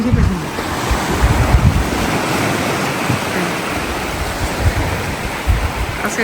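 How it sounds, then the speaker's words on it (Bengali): Rough sea surf crashes continuously on Kardamena beach in winter, loud and close, with strong wind buffeting the microphone throughout. "আজকে সমুদ্র খুব উত্তাল না না না মোটামুটি উত্তাল আছে"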